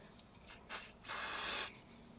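Short hissing bursts of cleaner sprayed onto a rag during a Hyundai Elantra service: a quick puff, then a longer half-second spray, close and fairly quiet.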